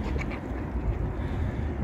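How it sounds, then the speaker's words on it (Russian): Ducks and drakes swimming in a city park in Kyiv quack in a few short calls over steady outdoor background noise, fairly close but not loud. "Вот такие вот у нас уточки плавают, селезни в парке в городе Киеве."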